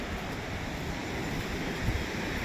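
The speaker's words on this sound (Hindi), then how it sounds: "नीचे पानी का फ्लो बहुत तेज़ है, देख सकते हो।" Fast-flowing river water rushes beneath a bridge on the trek from Gobind Ghat toward Hemkund Sahib, a steady, dense roar with some wind, loud and unbroken, with no speech.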